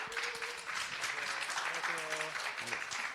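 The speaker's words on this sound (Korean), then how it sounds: "큰 박수로 모시겠습니다" Applause from an audience welcoming speakers at a youth career fair in Daegu runs throughout, with a voice speaking over it.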